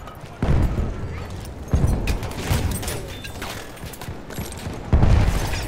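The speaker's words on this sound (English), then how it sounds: "Oh, mortar" Mortar fire in the video game Battlefield 1, heavy booming blasts and rumbling bursts arriving in waves over continuous battlefield noise, loud and close with no voices.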